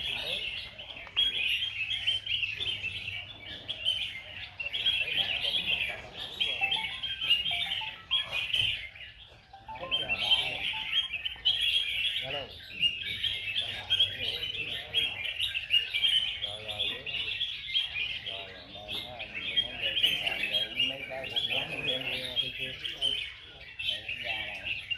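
Red-whiskered bulbuls sing at a songbird contest in Bình Dương, with repeated bright chirping phrases in steady bursts over an ambient crowd murmur.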